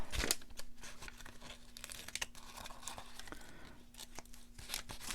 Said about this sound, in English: All right, so let me cut that off.